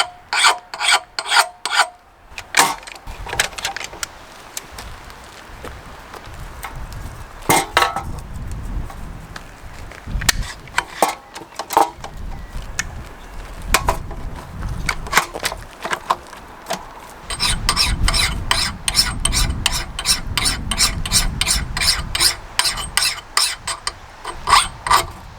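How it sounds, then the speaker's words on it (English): A hand file rasps a micro bevel onto an axe edge, close dry scraping strokes in steady rhythmic runs, slower and irregular in the middle, then a fast even series of strokes at the end. "Now we are finished with the filing, and I did a little bit of a micro bevel with the file"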